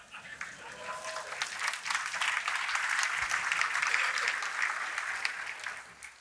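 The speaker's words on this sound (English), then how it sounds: "Linux admins should be applauding right about now." A keynote audience at Red Hat Summit breaks into applause, a wide crowd of clapping that swells and holds steady, then tapers off, with faint voices underneath at the start.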